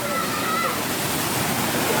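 Water from a river rushing out of an old Spanish-built tunnel, a loud, steady, close roar of flowing water with a faint voice briefly audible over it.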